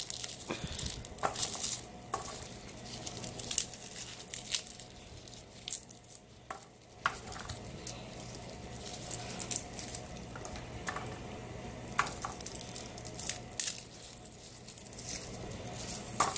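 Papery garlic skins crackle and rustle in short, close, irregular bursts as a bulb is pulled apart into cloves by hand, with faint handling of the cloves going into a basket and no talk.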